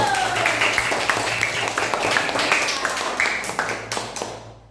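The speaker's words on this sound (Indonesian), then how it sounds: "Ya, tepuk tangan dulu." Children in a classroom clap together on cue, a lively burst of fairly close hand claps with some rhythmic unison beats, fading out after a few seconds.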